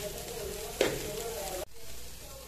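Food sizzles steadily in a pan during preparation of Mexican potato tacos, a continuous frying hiss with a brief clatter partway through before the sizzle drops and resumes.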